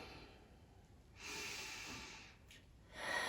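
Slow, deep breaths taken during a yoga pose, a quiet close inhale swelling and fading, then another breath beginning, with no talking.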